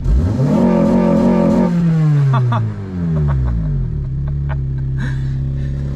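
An 8th-generation Honda Civic Si engine revs loudly and close up, sweeping upward and then falling back through a couple of throttle blips before settling to a steady idle.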